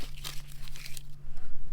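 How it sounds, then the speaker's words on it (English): Dried yellow onions, harvested early and held in humid late-September weather, rustle and crinkle in a short close-up handful, crisp papery crackles fading into a softer shuffle. "not that super crunchy sound that Papa likes so much"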